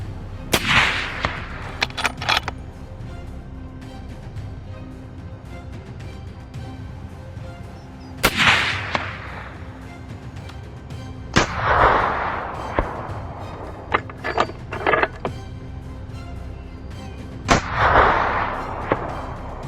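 Rifle shots crack during a wild boar hunt, several sharp, loud reports spaced seconds apart, each followed by a rolling echo across open ground.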